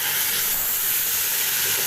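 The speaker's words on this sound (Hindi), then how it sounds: "मैं ये गोश्त ऐड कर दूंगी इसमें मटन का" Mutton hits a hot pan of ghee and browned onions and sizzles with a steady, steamy hiss, fairly loud and continuous for a couple of seconds.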